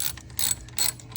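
A ratchet clicks in short quick bursts while tightening spark plugs on a Porsche Macan S, close and crisp with no talk.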